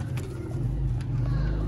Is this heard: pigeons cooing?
yes